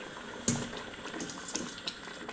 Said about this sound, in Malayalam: നമ്മുടെ അരി ഒരു ഇരുപത്തഞ്ച് മിനിറ്റോളം തിളച്ചു കഴിഞ്ഞു